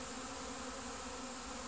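Swarm of honeybees at a hive entrance, a dense continuous buzzing drone that holds steady and fairly close throughout, with no voices.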